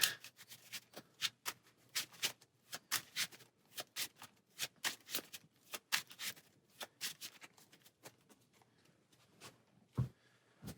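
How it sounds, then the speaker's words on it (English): Cards being shuffled for the Venom Assault deck-building game during a solo session: a long run of quick, crisp riffling bursts with a steady rhythm, close and alone, ending in one sharper snap near the end. "And I'll try shuffling."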